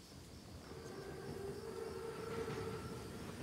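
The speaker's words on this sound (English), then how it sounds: "Train's right on time." An armored train (Panzerzug) in the video game Call of Duty WW2 rumbles along at a distance, a low continuous rolling drone with a faint, sustained whistle-like tone above it, quiet and steady without any voices.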